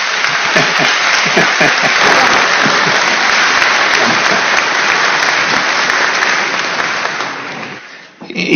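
Sustained applause from an assembly audience, dense and steady for several seconds before fading out near the end.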